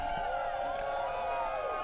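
A motocross race crowd at the Washougal Nationals cheers and whoops loudly toward a camera, a dense, continuous roar of many voices throughout.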